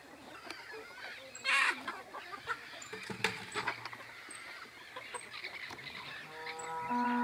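Chickens cluck and squawk around a rural farmyard, with scattered calls near and far, some louder bursts, and faint voices in the background.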